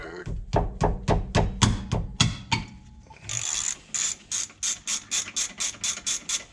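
A ratchet with a 14 mm socket turns a brake bolt on a Toyota Prius, giving close rhythmic clicking strokes, first heavier and slower, then a quicker, lighter run of clicks.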